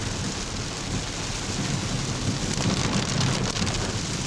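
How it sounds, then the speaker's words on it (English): Steady rain falls in Utuado, Puerto Rico, a dense continuous hiss of drops on surfaces, loud and close with a few sharper spatters, and no voices. "It's not going to be quite as beautiful as we had wished because it is raining"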